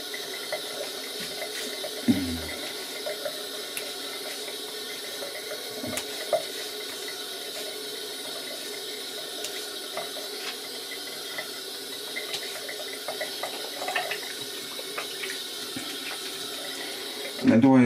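Water runs steadily from a tap into a bathroom sink during a shave, a continuous hiss with occasional splashes and clinks, close by, with no talk.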